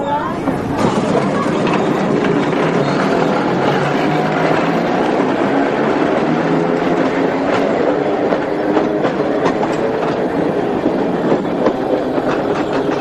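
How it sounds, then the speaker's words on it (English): A tram rides through a museum with a steady rumble and clickety-clack of wheels on rails, continuous and fairly close, with a faint rising whine. "There are not many museums which you can ride around in a tram."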